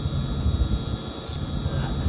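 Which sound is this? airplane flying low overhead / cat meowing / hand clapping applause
airplane flying low overhead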